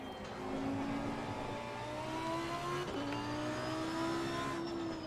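Lamborghini Huracan GT3 Evo race car lapping Zandvoort in Assetto Corsa Competizione, its engine revving hard and rising in pitch through the gears with a brief drop at each shift, loud, close and alone.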